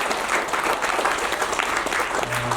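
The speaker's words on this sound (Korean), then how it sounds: "박수 한번 부탁드립니다" Audience applauding steadily at a year-end gathering of a city tourism association in a hotel, a dense continuous clapping throughout at moderate distance.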